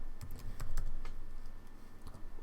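Quick, light keystrokes on a computer keyboard as a short word is typed into a search box, a brief run of close, soft clicks with no voices.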